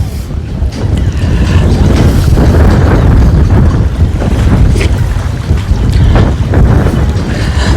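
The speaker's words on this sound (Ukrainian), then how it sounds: "Боже, який вітер, а?" Strong wind roars and buffets continuously against the microphone at Arkadia beach on the sea, loud and gusty, with a faint wash of surf underneath.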